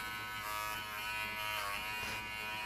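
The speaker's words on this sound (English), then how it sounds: "the Wahl clippers are so well balanced and so comfortable in your hand and so lightweight" A Wahl Figura lithium ion clipper runs steadily for a poodle grooming session, a close, even electric buzz with no talking.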